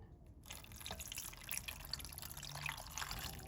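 Liquid pours into a pot of Turkish zucchini dolma, a steady close trickling and splashing that runs on without a break.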